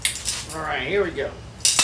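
A geode cracked open by hand gives sharp, ringing clinks at the start and again near the end, with a brief voiced exclamation in between.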